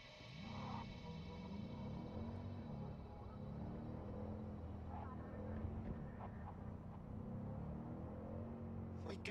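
A car driving in the video game Cyberpunk 2077, a steady low engine rumble and road drone held at an even level throughout, with a voice speaking over it.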